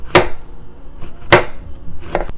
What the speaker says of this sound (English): the safest way to cut this is put your garden eggs on the cutting board